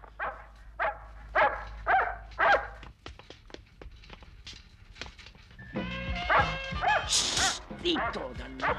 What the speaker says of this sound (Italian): Ci mancava sto cane.